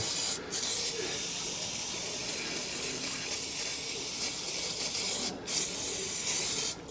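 Aerosol parts cleaner hisses in a long continuous spray onto the engine of a MK1 Citroen BX 16 TRS during an oil and filter service, close and steady, with two brief pauses in the jet.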